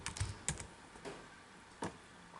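A command is typed on a computer keyboard in MATLAB's command window. A few separate keystrokes click in a quiet room, with a short burst near the start and single taps spaced out after it.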